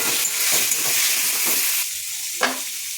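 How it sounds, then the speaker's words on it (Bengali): Spice paste frying with eggplant chunks and already-fried taro in a pan, a close, steady loud sizzle with stirring strokes scraping through it and one sharper clatter near the end; no voices. "মশলাটা ভালো করে কষিয়ে নেব"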